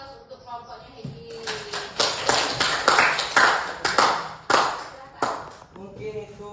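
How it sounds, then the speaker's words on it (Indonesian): A classroom applauds a student group. Clapping of moderate loudness starts after a brief pause and swells into a scattered, uneven patter of many hands with some sharp individual claps, while voices murmur faintly beneath it. "beri aplaus untuk kelompoknya Hedi"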